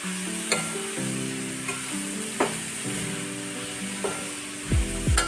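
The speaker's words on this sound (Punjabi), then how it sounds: "ਹੁਣ ਆਪਾਂ ਪਾਵਾਂਗੇ ਜੀ ਕੱਦੂ ਦੇ ਫਾੜੀਆਂ ਵਿੱਚ ਤੇ ਪਿਆਜ਼ ਪਾਏ ਵਿੱਚ ਥੋੜੇ ਜਿਹੇ ਇਹਨੂੰ ਆਪਾਂ ਪਾ ਕੇ ਚੰਗੀ ਤਰ੍ਹਾਂ ਹੁਣ ਮਿਕਸ ਕਰ ਲਾਂਗੇ ਸਾਰੇ ਨੂੰ" A spoon stirs masala into pumpkin slices and onions in a sizzling pan, with steady frying hiss, a few scraping strokes spaced a second or so apart and a louder clatter near the end.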